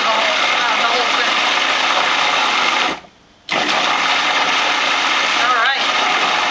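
Food processor pulsing cream cheese with fine lime zest, heard as a steady, loud motor whir that cuts out briefly midway and then starts again.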